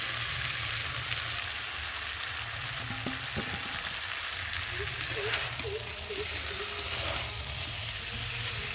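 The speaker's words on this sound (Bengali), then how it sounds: "আর এখন আমি ভেজে রাখা কপিগুলোকে দিয়ে একটু ভালো করে কষিয়ে নেব" Fried cauliflower being sautéed in spice masala in a pan, a soft steady sizzle with light stirring and a few faint clinks, fairly quiet and close.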